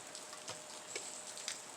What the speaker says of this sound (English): Hear it raining?